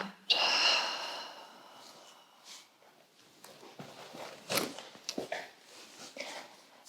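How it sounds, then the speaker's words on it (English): A person takes a full breath in and lets a full breath out during a restorative yoga session, a close, airy inhale followed by a slower exhale and soft rustling. "Taking a full breath in and a full breath out."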